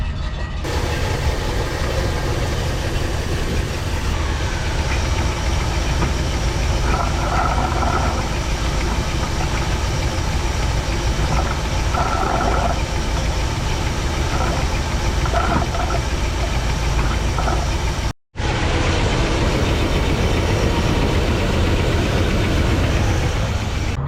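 A 1985 Dodge D150 pickup with a 727 automatic transmission idles steadily in neutral after sitting parked for years, a continuous low engine rumble with faint knocking, broken by one brief dropout near the end.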